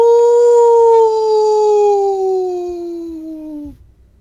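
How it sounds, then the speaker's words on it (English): A long, loud, steady howl that slowly falls in pitch before cutting off, close and alone over a quiet background. "You hear a loud and ominous howl."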